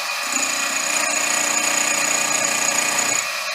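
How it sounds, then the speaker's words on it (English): End mill on a milling machine squaring off workpiece edges held horizontally in a vise, a steady loud whining cut with high tonal ringing that runs continuously for about three seconds, no talk. "I'll just use a conventional end mill here and mill those off square with the rest of it"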